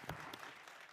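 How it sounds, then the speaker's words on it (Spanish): Brief applause from an audience at a panel discussion on trade and investment, a short wash of clapping heard faintly and at a distance. "Esto se merece un aplauso."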